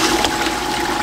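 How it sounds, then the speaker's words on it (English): Homemade vapor blaster churning glass bead media into about 2.5 gallons of water, a steady close sloshing and gurgling of agitated liquid with no voices. "This is the switch that turns it on, so I'll just show you what it looks like when it does turn on."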